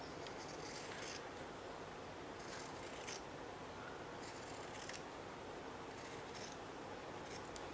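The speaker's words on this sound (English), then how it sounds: "And I'm going to cut some of it" Scissors snip through fabric in quiet, irregular cuts, a few separate crisp bursts over a steady faint background hiss, with no one talking.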